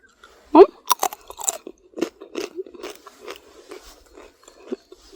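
Someone bites and chews crisp pasta chips made in an air fryer, close and loud. Crunches come in quick bursts and then settle into softer, steady chewing.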